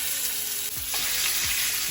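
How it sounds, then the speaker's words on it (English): Salmon sears in a hot pan with a loud, steady, close-up sizzle and a few faint scraping touches. No one talks. "now I'm going to sear the salmon"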